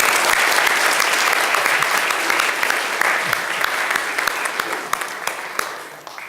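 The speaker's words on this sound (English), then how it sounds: "How about a round of applause for our actors here?" Warm, loud applause from a congregation for child actors after a Christmas Eve candlelight service play, dense sustained clapping that gradually thins and fades toward the end.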